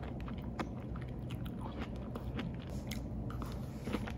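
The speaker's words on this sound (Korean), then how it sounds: "아스파라거스에 이렇게 찍어 먹으니까 맛있더라고" Close biting and chewing of asparagus dipped in chicken breast sauce, a steady run of soft crunchy bites and mouth sounds, with no talk.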